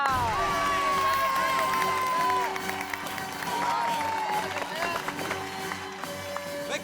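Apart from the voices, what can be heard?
applause and cheering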